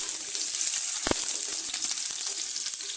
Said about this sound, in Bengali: তেল গরম হয়ে গেছে, রসুন কুচি দিয়ে দিব 2 টেবিল চামচ।